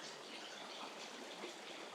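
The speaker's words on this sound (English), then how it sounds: "crossing over a creek right now" A creek on the Appalachian Trail flows beneath a footbridge, giving a steady, close, unbroken rush and trickle of water with no voices.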